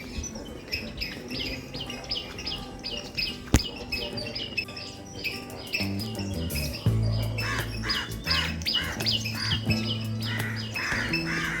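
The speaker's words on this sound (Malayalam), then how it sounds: "രാവിലെ നിറയെ പക്ഷികളുടെ ശബ്ദം കേൾക്കാൻ കഴിയുന്നുണ്ട്." Many birds chirp, tweet and caw on a morning walk through Colombo, Sri Lanka, a dense layer of calls near and far, with a steady low rumble joining partway through and no talking.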